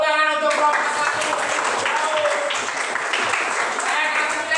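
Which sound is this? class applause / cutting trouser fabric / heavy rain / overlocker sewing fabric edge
class applause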